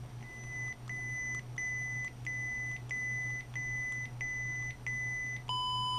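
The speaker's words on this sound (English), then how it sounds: "Once you hear that tone, volume's all the way up." Repeated electronic beeps from a Tseng KRS Proffie neopixel lightsaber at maximum volume, eight steady evenly spaced tones over a low constant hum, ending with a higher confirmation chirp.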